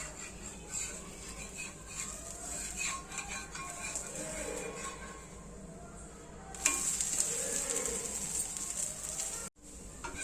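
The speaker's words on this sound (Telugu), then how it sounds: "ఇలా దోశ వేసుకున్న తర్వాత దోశ బాగా కాలిన తర్వాత రెండో వైపు తిప్పుకొని దోశ తీసేసుకోవడమే." A protein-rich dosa sizzles on a hot pan and is flipped, a steady close frying hiss with light scraping and utensil clinks, then a sharper burst of sizzle partway through and a brief cut near the end.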